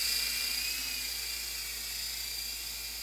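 A small E-flite Blade mcX RC helicopter flies past with a steady, high-pitched electric whine, close and continuous, fading slightly as it moves.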